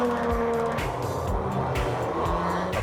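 Grand Prix race cars at Adelaide in 1986, engines revving hard and passing by in quick succession as several loud, rising and falling whooshes over steady road noise.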